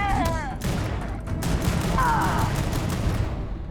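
Rapid bursts of gunfire in the sci-fi game Starfield as enemies are shot, loud dense volleys early on with a brief warbling electronic effect midway.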